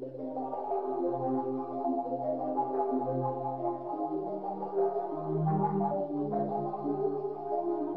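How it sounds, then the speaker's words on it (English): Beat played back through Waves Abbey Road Chambers reverb using a snare room preset: sustained, reverberant tonal chords and a low bass line flowing continuously at steady level, with no voices. "And yeah, with the reverb, it sounds like this."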